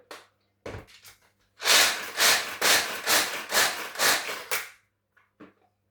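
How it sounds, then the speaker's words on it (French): Unsalted nuts are coarsely chopped with a knife, giving a run of about eight rapid, rough rocking crunches in the middle, bracketed by a few isolated chops, loud and close, with no speech. "il vous en faut 50 grammes que je vais hacher grossièrement"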